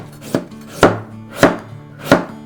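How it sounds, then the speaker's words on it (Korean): A knife cuts thinly through spring cabbage (bomdong) on a board for geotjeori, giving four distinct loud close chops at an unhurried, even pace. "이거를 이렇게 얇게 쓸어주는 거야"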